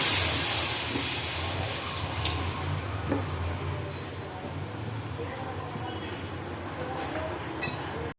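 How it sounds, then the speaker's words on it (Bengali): Milk poured into a very hot pan on a gas stove hisses in a broad, steady rush that starts loud and eases slightly, with a few faint clinks over the top. "এখন তোমরা কড়া গরম হয়ে গেছে দুধটা ঢেলে দিলাম"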